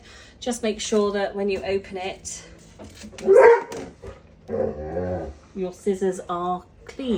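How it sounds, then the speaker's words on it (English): Dogs barking and yipping as they fight in the background while a person talks over them, with a louder burst of barking midway. "Sorry about the noise, my dogs have decided to fight."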